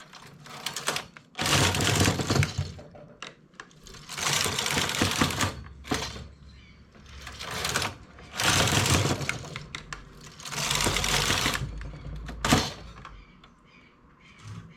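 A knitting machine working lace stitches on a scarf, straining as it goes: repeated loud mechanical clattering passes, each a couple of seconds long, separated by brief quieter gaps.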